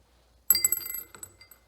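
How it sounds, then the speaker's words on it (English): Small metal lug nuts from an RC car dropped into a little glass jar: a sudden, close cluster of bright clinks and rattles that quickly thins into a few scattered taps, quiet overall. "put them in our little glass jar and make sure we keep track of them"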